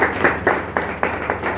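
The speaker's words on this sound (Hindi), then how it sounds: "हाँ जी, जोरदार ताली।" Loud applause at a small celebration event in Delhi: a crowd claps in rhythmic bursts, close and steady, with no talking.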